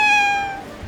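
A cat gives a single clear, close, fairly loud meow that holds a steady pitch and then fades away, with no talk over it.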